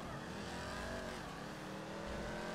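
A car engine in GTA 5 runs loud and steady, holding a continuous growl with slight rises in pitch, and no voices come through over it.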